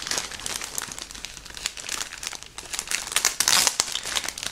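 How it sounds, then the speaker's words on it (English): A resealable plastic bag holding parts from an Eduard 1:48 Albatros model kit crinkles and rustles close up, with steady handling noise and a louder burst of crumpling near the end. "one plastic bag, resealable plastic bag"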